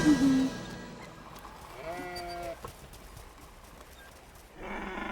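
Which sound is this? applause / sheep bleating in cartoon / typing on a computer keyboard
sheep bleating in cartoon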